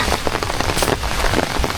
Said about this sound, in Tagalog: itong ulan na ito